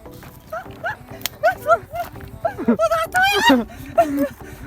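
A troublesome dog barks and yelps repeatedly at close range in short, uneven bursts, mixed with people talking nearby.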